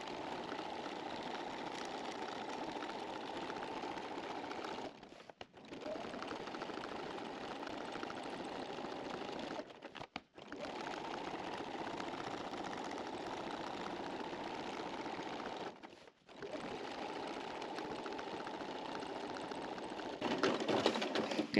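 Sewing machine stitching a quilt-as-you-go block, running in long steady bursts of rapid mechanical whirring, stopping briefly three times before starting again, close and continuous.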